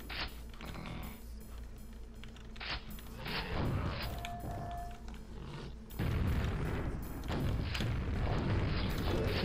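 Grenades burst repeatedly in Quake 1 on Nightmare mode, in the Scourge of Armagon expansion: a dense run of loud, booming blasts and rumbling impacts that carry on without pause.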